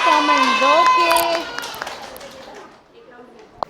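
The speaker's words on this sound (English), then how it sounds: "A big round of applause for all our senior KG kids for such a wonderful performance" A school audience claps and cheers loudly after a kindergarten performance, with excited voices, likely children's, calling out over the applause. The sound fades to quiet after a couple of seconds, ending with one sharp knock.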